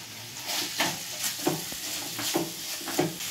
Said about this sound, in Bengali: এবার আমি দিয়ে দিচ্ছি পেঁয়াজগুলো।